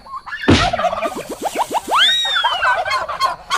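Large chicken squawking and clucking up close, a sharp flap or thump followed by a rising series of loud calls, no talking over it.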